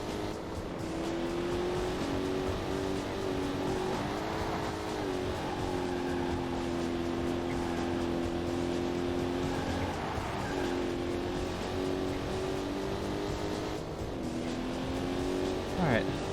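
Race car engines drone continuously in the Corvette 50th Anniversary racing game, a steady high whine that shifts pitch with gear changes over a long stretch, with someone talking over the game audio throughout.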